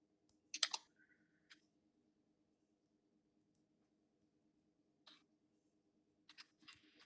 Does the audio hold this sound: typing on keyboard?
yes